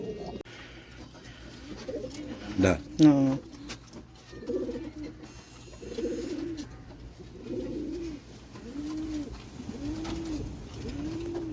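Pigeons, including a brooding one, cooing in a repeated, soft rhythmic pattern, with a brief flutter or clatter early on and quiet background noise.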